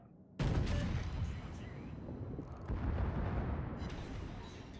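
Secondary battery guns on a warship blaze away in World of Warships, a dense, continuous roar of rapid booming shots that kicks in abruptly and rumbles on loudly, with a fresh surge of fire midway.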